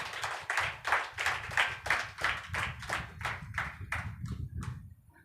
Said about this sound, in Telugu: నమ్మితే గట్టిగా చప్పట్లు కొట్టు